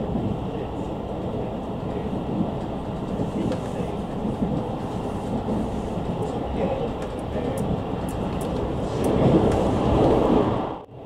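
A limited express train in old JNR livery on the Musashino line route via the Omiya branch runs through an underground tunnel, a dense, steady roar of wheels and rail clatter from inside the car, swelling louder near the end.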